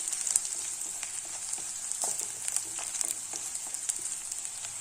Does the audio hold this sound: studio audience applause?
no